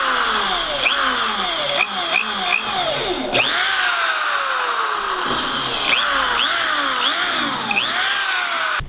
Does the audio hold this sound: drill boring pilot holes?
yes